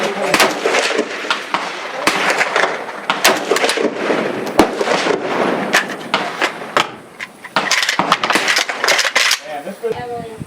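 AK-47 rifle shots fired from a prone position at a 100-yard range, sharp cracks popping irregularly through the clip amid background voices.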